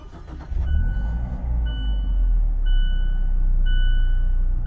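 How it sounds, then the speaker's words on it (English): A 2017 Fiat 124 Spider Abarth starts by push button: a brief crank catches into a steady, loud idle, with a repeating electronic chime beeping over the running engine. "push button start"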